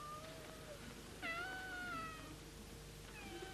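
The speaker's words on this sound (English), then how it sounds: "Mr. Wooster, there is a cat close at hand." A single clear cat meow rises and falls in a quiet room, with a couple of fainter mews before and after it.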